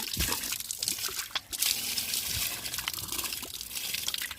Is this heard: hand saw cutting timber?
no